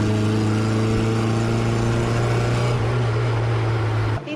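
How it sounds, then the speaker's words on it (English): Small Hillman Imp car engine buzzing loudly under load with a steady, strained hum, close up inside the moving car, cutting off abruptly at the end, no talking. "And then there's that little engine."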